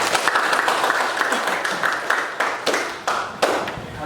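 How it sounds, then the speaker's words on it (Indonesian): A small group claps together, a dense patter that thins into a few final scattered claps, fairly close by. "berikan tepuk tangan untuk Ababil."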